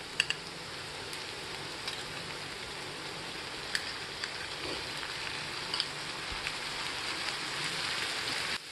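Onion frying with ginger garlic paste in a pan for an egg curry, a steady hissing sizzle throughout with occasional small pops and faint scrapes of stirring.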